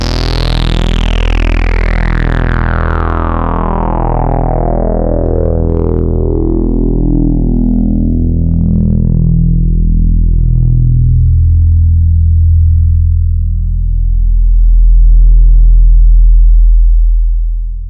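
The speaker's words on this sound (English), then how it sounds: "you can gang together the 2 filters in low pass mode and create an actual 6-pole analog filter" An UnoSynth Pro analog synthesizer plays a sustained bass-heavy tone through its 6-pole low pass filter, with the filter sweeping steadily downward so the bright buzzy harmonics close off into a deep, rumbling drone that swells louder near the end.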